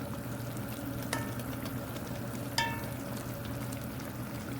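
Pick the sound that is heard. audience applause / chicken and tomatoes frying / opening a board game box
chicken and tomatoes frying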